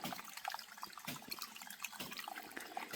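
Water runs and trickles at a mountain stream source, a faint, close, steady bubbling flow with small splashes throughout and no voices.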